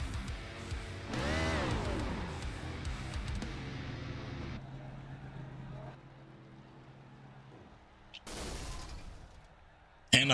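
A stock race car's engine blows in a racing video game at Atlanta, with a loud engine roar breaking into rough crackling bursts and a sharp, sudden blast at the very end.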